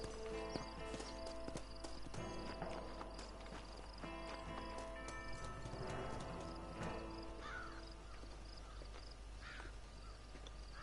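Horse hooves clip-clop in a steady rhythm in the Red Dead Redemption video game, with crow caws and bright game sounds layered over the trotting.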